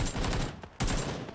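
Rapid gunfire in PUBG, a close, loud burst of shots that breaks off briefly and then resumes.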